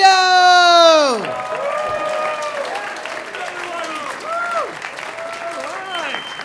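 Comedy club crowd applauding and cheering for a comic taking the stage for his first stand-up set, loud and close, with a sustained burst of clapping and whoops that fades into a spoken voice over lingering applause.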